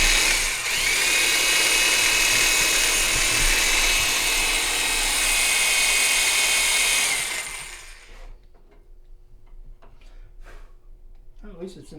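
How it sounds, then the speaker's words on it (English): Power drill running continuously in a workshop, driving a large Phillips-head screw, loud and steady for about seven seconds before cutting out, leaving quieter knocks and faint voices. "That drill's not gonna make it."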